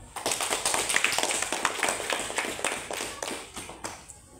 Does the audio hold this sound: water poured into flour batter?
no